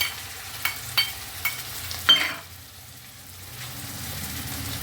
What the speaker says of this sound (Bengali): এবার কাঁচা লঙ্কা, আদা আর রসুনের পেস্টটা আমি দিয়ে দিচ্ছি